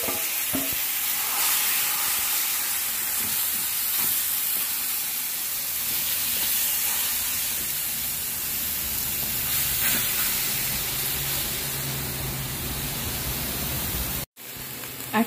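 Steady, close sizzling of ingredients frying in a single pan for a one-pot meal, a continuous bright hiss with occasional stirring scrapes and no talking.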